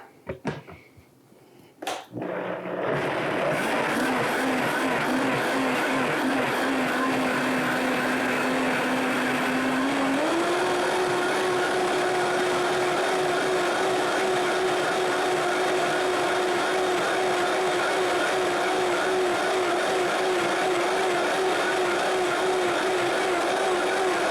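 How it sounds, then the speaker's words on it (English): A Vitamix blender whirs up burrito sauce after a few clicks and thumps, settling into a loud steady motor roar that steps up in pitch partway through and keeps running to the end. "I'm going to go ahead and get this on the Vitamix and blend it up"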